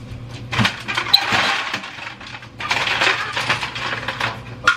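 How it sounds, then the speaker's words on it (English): Ice cubes clatter and rattle as they are poured into a measuring cup for a blender, two loud bursts of tumbling, clinking pieces close by with a short pause between them. "pour 1/2 cup of ice into blender"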